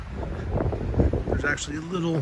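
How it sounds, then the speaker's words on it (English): Wind gusts around a mountain summit tower, a steady rushing buffet against the microphone running beneath a person talking throughout. "with the weather and the wind up here"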